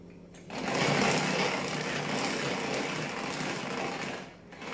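A Tupperware Speedy Chef 2 whisks egg whites with sugar, a steady rapid whirring and rattling that starts abruptly and runs continuously, dipping briefly near the end.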